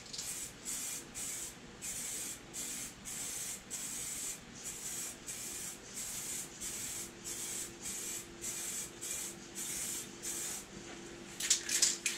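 Spraymax clear coat hisses from an aerosol can in a long run of short, evenly paced bursts with brief gaps between them, fairly soft and close, with a slightly louder sputter near the end and no talking.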